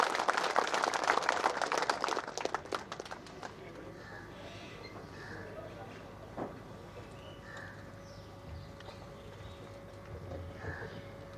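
Audience clapping to welcome speakers at a traffic rules seminar, a dense burst of applause in a hall that fades out over a few seconds into quiet room noise.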